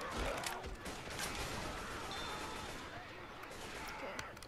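Dense, continuous gunfire from Left 4 Dead 2 crackles throughout as a rapid fusillade of shots, loud and busy with mechanical clinks mixed in.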